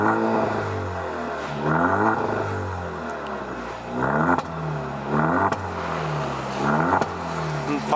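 A loud straight-piped Alfa Romeo engine revs repeatedly in rising bursts over a steady rumbling idle, with faint popping crackles between revs.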